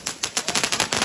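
A string of firecrackers goes off in quick succession, a rapid run of loud close bangs like a short burst of gunfire, with no talking.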